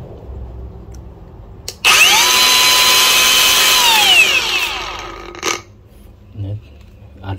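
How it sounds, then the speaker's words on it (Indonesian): A DeWalt DWE 4118 variable-speed angle grinder spins up with a sharp click, runs at a steady high whine for about three seconds, then winds down, followed by a few faint knocks and handling sounds in a quiet room. "Ini bearingnya jauh lebih rapat bearingnya ini, makanya tidak terlalu berisik ini gerinda ini."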